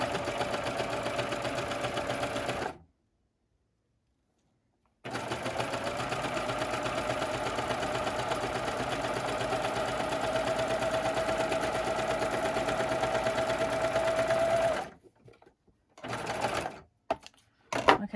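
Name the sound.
sewing machine stitching seams of an elf outfit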